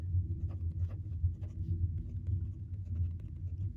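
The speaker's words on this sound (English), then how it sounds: "I'm gonna write here." A pen moves across a paper budget sheet in short, faint scratching strokes close by, over a low steady room rumble.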